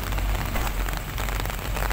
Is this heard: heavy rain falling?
yes